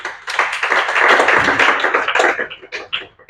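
Church congregation applauding during a French-language worship service: a dense burst of many hands clapping together, swelling loud and then thinning into scattered claps toward the end.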